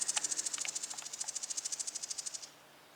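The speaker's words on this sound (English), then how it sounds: "that's an angry bird with me. Not happy. It's been yelling at me all morning when I get close." An agitated bird calls in a shady backyard garden, giving a fast, even run of about twenty sharp, high chattering notes over roughly two and a half seconds, close and clear against quiet surroundings, then stops abruptly.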